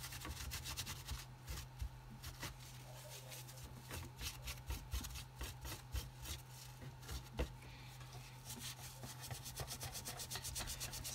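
Dried thermal paste is wiped off an HP Pavilion g6 laptop's cooling parts with a cloth or napkin, a quiet, steady run of close rubbing and scuffing strokes in an irregular rhythm, with no speech.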